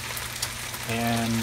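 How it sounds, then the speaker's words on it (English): Oil and wine sautéing around fish in a covered pan, a steady fizzing sizzle throughout, with a voice starting to speak near the end. "Oil and wine are sauteing, essentially."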